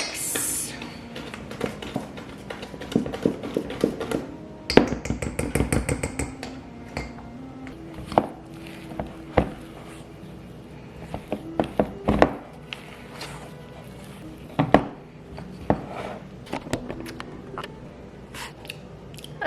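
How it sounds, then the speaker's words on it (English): Vegan chocolate chip cookie batter being stirred by hand in a bowl, with irregular scrapes and clicks of the utensil against the sides and quiet gaps between strokes. "All right, now we mix."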